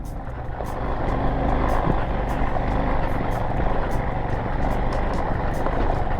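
Four-stroke motorcycle engine chugging steadily at low revs in second gear on mountainous trail terrain, a constant loud rumble with wind buffeting throughout.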